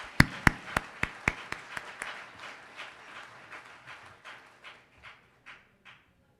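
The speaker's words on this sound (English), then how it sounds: "So give yourselves a great big round of applause." Luncheon audience applause that is fairly faint: a few sharp, distinct claps up front, then a steady rhythmic patter of clapping that gradually fades over several seconds.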